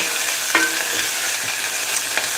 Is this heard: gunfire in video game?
no